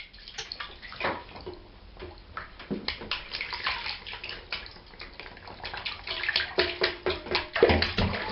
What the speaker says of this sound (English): here he is in the bath having more of a swim